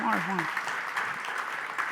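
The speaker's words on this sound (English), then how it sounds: "Applause, more" An audience at a startup founders' pitch competition claps briefly between presenters; the applause is moderate and somewhat distant, and a voice speaks over it at the start.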